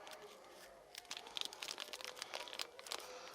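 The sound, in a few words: plastic bags crinkling during unboxing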